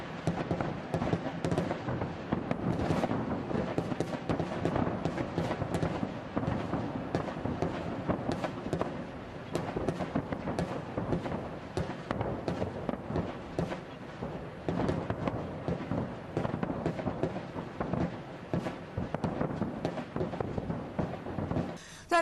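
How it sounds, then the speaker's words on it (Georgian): Gunfire and artillery in a conflict zone near Tskhinvali, a long run of sharp cracks and dull booms, some close and some distant, firing repeatedly over a continuous low rumble. "სროლის ხმა კვლავ ისმის კონფლიქტის ზონაში."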